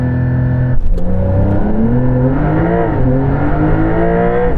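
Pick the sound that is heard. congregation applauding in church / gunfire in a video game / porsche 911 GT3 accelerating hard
porsche 911 GT3 accelerating hard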